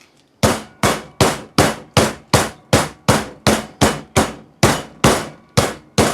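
A meat mallet pounds a chicken breast flat for chicken parmesan with sixteen evenly spaced, sharp thwacks, loud and close with no talking.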